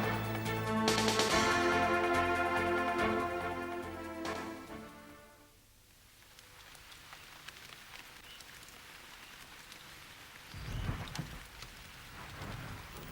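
Steady rain patters on a surface, then thins, and a deep rumble of thunder rolls in near the end, heard alone with no speech.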